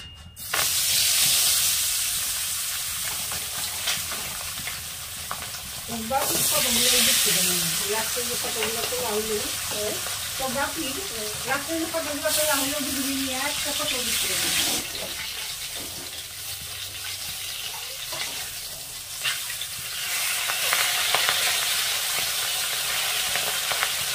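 Fish curry sizzles and bubbles steadily in a pan on a home stove, a continuous close frying hiss throughout, with a voice-like tonal sound in the middle stretch.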